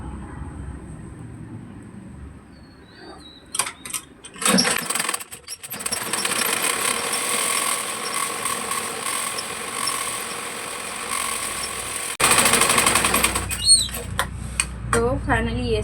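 A sewing machine runs the final seam of a six-panel petticoat, a continuous whirring drone through most of the stretch after a few short starts, growing louder near the end.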